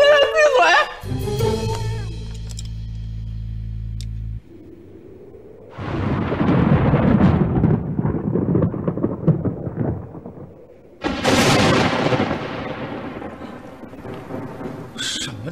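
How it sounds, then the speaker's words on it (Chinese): Thunder rolls in twice as deep, loud rumbles during a tense indoor domestic scene, with raised voices and talk around them. "只是打雷而已"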